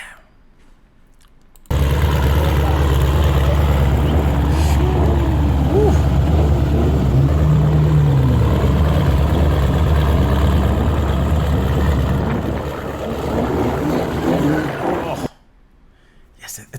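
Deep, steady rumble of the Suspect-WP car's engine idling loud and close for about thirteen seconds, with a brief rise in pitch near the middle, starting and stopping abruptly.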